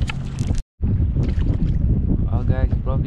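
Evening wind during squid fishing off Simon's Town, a loud, rough rumble pounding the microphone and cutting out briefly once, with a muffled voice surfacing faintly near the end.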